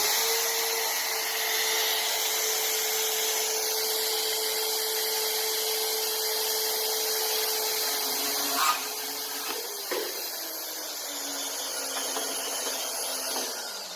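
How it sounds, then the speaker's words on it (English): A power tool cutting a metal baluster to length, a loud, steady whine with a constant tone and a few knocks near the end as the cut finishes. "And then we'll cut the bottom off, and that will give my spindle the right length."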